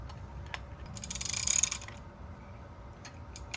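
A wrench torquing down an O-ringed ORB fitting on the fuel rail of a boosted 2.5 five-cylinder Jetta gives a close burst of quick ratcheting clicks and metallic creaks, with a few lighter ticks afterward.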